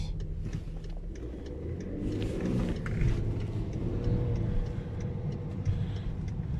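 BMW X6 with M57 diesel engine, slowing on the road, a low steady engine hum and rumble settling as it decelerates, with light ticking and no speech.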